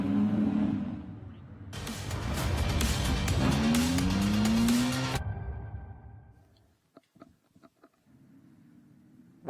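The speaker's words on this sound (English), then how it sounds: "That is the safety car heading down towards Turn 1 at Laguna Seca" Ferrari Challenge race cars and a safety car at Laguna Seca, engines roaring loudly with rising whines and tire noise as the cars pass, then fading to quiet with scattered faint clicks.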